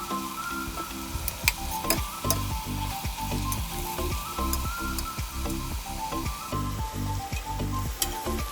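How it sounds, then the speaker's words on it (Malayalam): Chopped tomatoes frying in a pan for biryani, a continuous sizzle punctuated by frequent rhythmic knocks and scrapes of a spoon stirring against the pan. "എന്നിട്ട് കട്ട് ചെയ്ത് വെച്ച് തക്കാളി ചേർക്കുക. അതും ഒരു 2 മിനിറ്റ് നന്നായി ബോയിലാവുന്ന വരെ മിക്സ് ചെയ്യുക."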